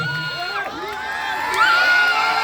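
Festival crowd at an outdoor Korean-American friendship concert cheering and shouting, a sustained loud wash of mixed voices with rising whoops near the end.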